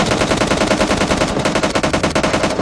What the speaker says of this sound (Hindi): सामने स्टेडियम से गोलियों की आवाजें आ रही थी